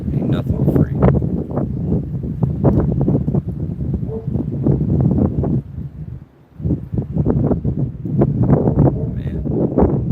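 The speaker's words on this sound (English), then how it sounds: "it's breezy" Breezy outdoor wind buffets the microphone in strong, continuous gusts throughout, with a brief lull partway, during a live outdoor prepping and survival broadcast.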